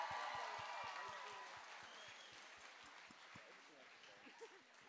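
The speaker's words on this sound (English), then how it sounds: "Big round of applause for those people, please." A school battle-of-the-bands audience claps quietly in a slow, even rhythm, with distant voices underneath, and the clapping fades toward the end.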